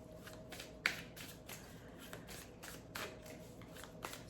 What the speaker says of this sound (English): So we're just doing a little pre-shuffle here.